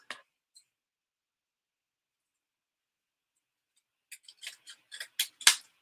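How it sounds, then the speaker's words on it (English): Scissors snipping paper while assembling a handmade journal: one sharp snip at the start, a pause, then a quick run of close, crisp cuts building to a louder final snip. "Let me use our scissors and use these."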